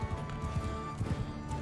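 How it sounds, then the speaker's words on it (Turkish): Horse hooves galloping in the video game Mount & Blade II: Bannerlord, a quick, uneven rhythm of soft thuds under a steady wash of ambient battle noise, moderately quiet. "Tiyal atı kullanıyorum efendim"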